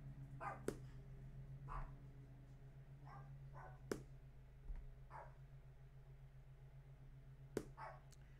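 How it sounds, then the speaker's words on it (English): A dog indoors barking at a lawn worker outside, a handful of separate, spaced barks and yips over a steady low hum, faint and somewhat distant, with no talking. "She still barks her fool head off when she sees him."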